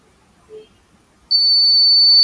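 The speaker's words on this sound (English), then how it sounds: "this is long beep sound and it will turn off." A steady high-pitched electronic beep starts abruptly after a brief faint tone and holds unbroken, loud and close.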